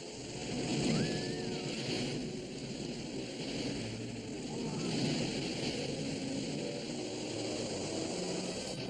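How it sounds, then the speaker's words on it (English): Ocean waves surge and roll in a Noah's Ark cartoon, a steady low rushing wash with wind-like noise swelling and easing, fairly faint, with brief tonal effects over it and no talk. "The waves are reaching us."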